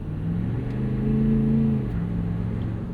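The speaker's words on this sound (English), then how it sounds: "Yep, it spun its wheels into third." A 2016 Ford F-350 Lariat with the 6.7 Powerstroke diesel accelerates hard from a roll and spins its wheels, its engine a steady, heavy drone that climbs slightly and then eases off as it shifts.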